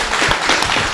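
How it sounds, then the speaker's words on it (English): Audience applause at a devotional class, a dense, steady wash of many hands clapping close by, filling the short moment without talk. "Please give a big round of applause for Shamlangi Mataji"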